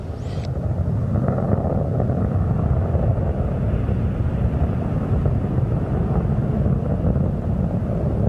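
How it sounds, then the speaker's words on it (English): Space Shuttle main engines roar during the STS-100 launch, a loud, unbroken, deep rumbling blast that stays steady throughout and drowns out everything else. "3 engines on board the spacecraft are throttling down to 2/3 throttle"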